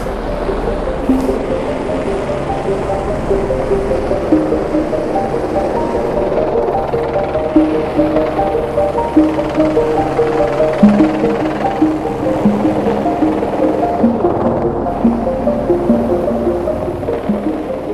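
A helicopter hired for a river cleanup after a storm drones continuously overhead, a steady loud thrumming engine and rotor sound with no talking.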